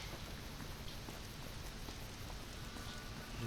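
Steady rain in the video game Fallout: New Vegas falls as a faint, even hiss that lasts the whole stretch, with no talk.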